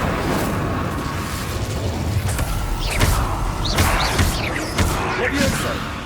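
Incendio fire spell cast in Hogwarts Legacy, a roaring, bursting fiery blast with repeated pops and booms amid dense combat noise, with a player speaking over it.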